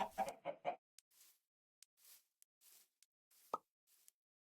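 Video game chickens cluck in a quick cluster of short, close bursts, then give a string of softer scattered clucks and a sharp plop, with no talking.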